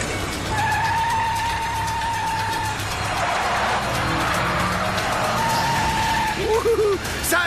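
A Chevrolet car skids with long, loud tire squeals and engine noise, the screeching recurring near the end, while voices shout over it.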